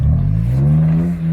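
A 4x4 off-road vehicle's engine revs loudly and close by in one continuous low growl that slides up in pitch, with no talking.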